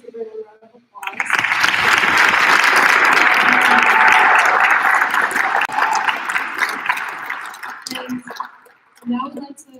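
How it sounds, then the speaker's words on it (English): An audience bursts into applause at a student pitch competition, a loud, dense round of clapping that starts abruptly, holds for several seconds and tapers off, with brief speech before and after. "Let's give her a round of applause."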